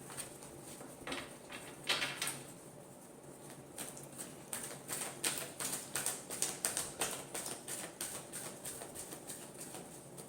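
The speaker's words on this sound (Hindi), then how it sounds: "एक लास्ट शफल" A tarot deck shuffled up close, with rapid, crisp card taps and riffling flutters that grow denser and more rhythmic toward the end, with no voices.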